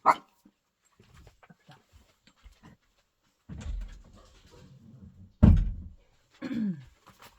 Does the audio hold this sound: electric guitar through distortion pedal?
no